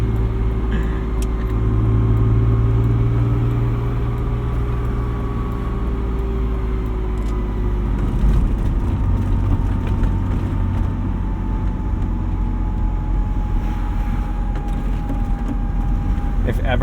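A turbocharged 1995 BMW 325i engine spooling up while driving produces a loud, continuous drone inside the car, with a whining tone that slowly rises and falls.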